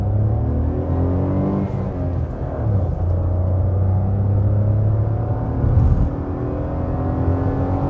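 A 2024 Maruti Swift with its Z series 3-cylinder engine pulls hard under acceleration, a steady loud engine drone climbing in pitch with a brief shift near the end, with no talking.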